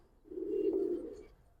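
A Giribaz pigeon, a young bird at a loft, gives a single soft, low coo that swells and fades over about a second, close by and alone.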